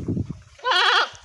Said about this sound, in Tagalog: Uy, may kambing pa. Kambing ng aking ate.